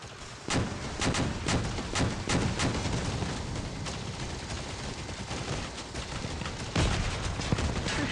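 Vehicle weapons in the Crossout mobile combat game fire in dense, rapid bursts, loud and continuous with sharp repeated cracks, over a rumbling wash of battle noise.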